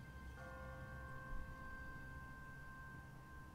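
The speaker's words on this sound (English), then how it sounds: "What kind of church bell goes off at 20 past the hour?" A single church bell strikes in The Walking Dead video game, a faint, distant toll that rings out and hangs in the air for a few seconds over quiet ambience.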